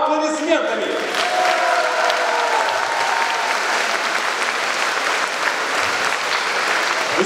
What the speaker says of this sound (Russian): здесь весь зал может взорваться криками «Ура!» и общими аплодисментами